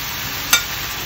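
Pieces of pav bhaji masala suji dhokla are tossed in a hot pan under a constant frying hiss. A single quick scrape-and-sizzle burst comes midway.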